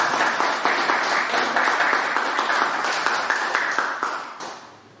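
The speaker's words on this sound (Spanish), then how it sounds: "¿Pueden darle unos aplausos al Señor," A church congregation applauds together in a dense, steady wash of clapping that carries on for several seconds and then fades away toward the end.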